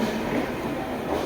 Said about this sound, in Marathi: ट्रेन बघतो